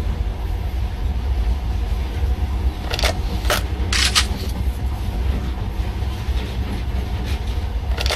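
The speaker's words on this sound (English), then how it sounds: "In the past, trains were ordinary things, but now, this monorail seems magic, doesn't it?" A monorail train in the video game Metro: Last Light rolls along with a steady low rumble and hum, broken by a few sharp metallic clicks and rattles near the middle.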